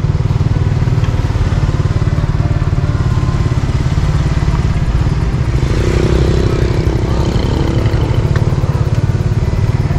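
Motorbike engine idling steadily close by while a rider looks for parking at a seaside area in Long Hai, a constant low rumble with faint clatter throughout and no clear speech.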